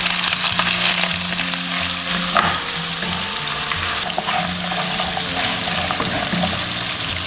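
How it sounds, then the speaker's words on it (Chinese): Pork ribs fry in oil with caramelized rock sugar, giving a loud, steady, crackling sizzle that runs unbroken throughout with small pops and spatters. "炒出糖色过后，下入排骨放色。"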